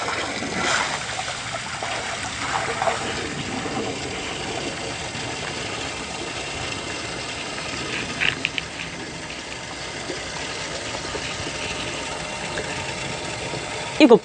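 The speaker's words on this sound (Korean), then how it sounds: "모터를 달아, 달아서 전기 꼽아가지고 계속 물을 뺀다" An electric water pump motor hums steadily as it drains water at a new cattle barn construction site, with trickling water and a few brief knocks near the end.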